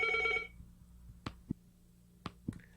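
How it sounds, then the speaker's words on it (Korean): Telephone ringing in a school during a recorded teacher-exam lecture, a brief harmonic ring at the start followed by quiet room with a few sharp knocks or clicks. "또 전화가 왔습니다."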